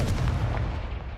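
A Confringo fire spell blasts in the Hogwarts Legacy video game, one loud, close, booming impact with a short rumbling decay that fades over about a second, with no talk.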